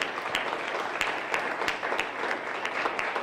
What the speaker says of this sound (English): Dr. Larson, let's give him a round of applause